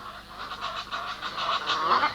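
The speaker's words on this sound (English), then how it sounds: "like these Egyptian geese scolding a crocodile" Egyptian geese honk repeated harsh alarm calls at a crocodile, a rapid series of rasping notes that grows louder toward the end, heard outdoors with no voices.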